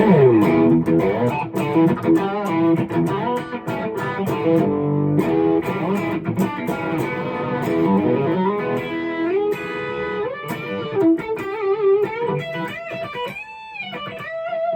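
A 2013 Gibson Les Paul Traditional Pro electric guitar played with a lightly overdriven, low-gain tone, strummed chords and single-note runs ringing out clearly, continuous and fairly loud with no talking.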